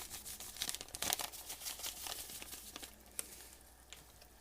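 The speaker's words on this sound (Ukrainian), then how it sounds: "і обсмажуємо до легкої рум'яності" Eggplant frying in a pan with a soft, irregular sizzle and crackle, faint and close, with a few small pops and no talk.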